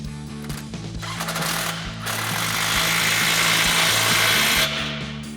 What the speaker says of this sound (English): Now we're going to go in and tighten down all of our clamps and our 2 bolts at our flange